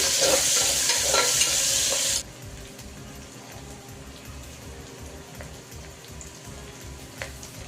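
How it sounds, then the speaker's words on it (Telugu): Thinly sliced onions hit hot oil for an Andhra-style mutton curry and are stirred, bursting into a loud, bright sizzle for about two seconds before it drops to a quieter, steady frying hiss with occasional scrapes. "ఇక్కడ సన్నగా కట్ చేసి పెట్టుకున్న మూడు ఉల్లిపాయలు వేసుకుంటున్నాం ఒకసారి కలుపుకుందాం"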